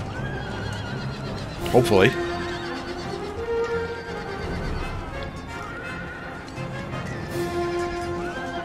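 Horse neighing with hoofbeats from cavalry in the battle game Empire: Total War, the whinny rising sharply among other battle noise while someone talks over it.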